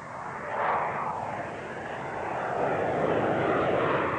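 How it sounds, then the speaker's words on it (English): An RAF Harrier attack aircraft flying past, a steady, loud roaring jet noise that swells gradually and holds across the whole stretch. "A frontline attack aircraft of such capability is the RAF's Harrier."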